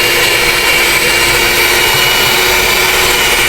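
An electric stand mixer motor kneads pandesal dough of water, egg and coconut milk, a loud continuous high-pitched whine with steady mechanical hum, alone and unbroken.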